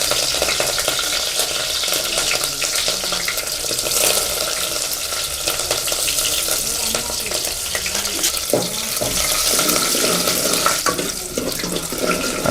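Green chilies fry in hot oil in a home kitchen pan, giving a constant close crackling sizzle with scattered pops and stirring clatter that continues without pause.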